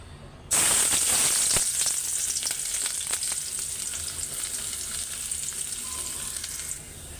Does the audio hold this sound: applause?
no